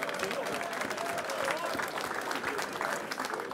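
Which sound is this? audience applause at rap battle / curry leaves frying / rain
audience applause at rap battle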